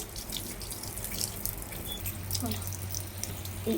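Skinned chicken pieces washed by hand under a running kitchen tap: a steady stream of water splashes and trickles, with irregular drips and spatters as the meat is turned and rubbed, fairly close and moderately loud.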